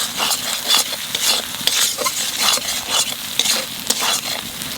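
Rupchanda (pomfret) fish masala with Kashmiri chilli powder, salt and turmeric stirred and frying in oil, a steady crackling sizzle broken by repeated scraping strokes of a spoon against the pan, close and continuous with no talking.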